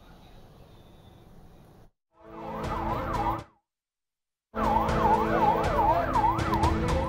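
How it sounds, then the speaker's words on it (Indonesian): Ambulances arrive at the Indonesian Hospital in Beit Lahia, northern Gaza, their wailing sirens rising and falling loudly in two bursts separated by a sudden silence, with traffic noise beneath. "Ambulans terus berdatangan ke Rumah Sakit Indonesia di Bait Lahia, Gaza Utara"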